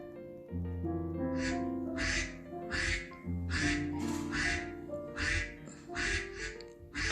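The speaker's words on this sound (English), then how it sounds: "Duck." A duck quacks repeatedly in a steady series of loud, nasal calls, close by and alone, with a sustained musical tone underneath throughout.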